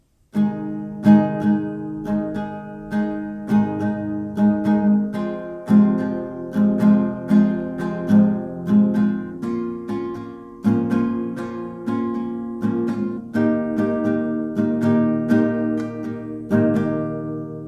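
Acoustic guitar strumming chords in a steady down-up rhythm, each chord ringing for a couple of beats before changing, clear and close with no voice.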